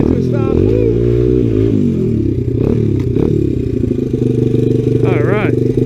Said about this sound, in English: That's flying probably 50 miles an hour in the snow. And we'll skid it to a stop.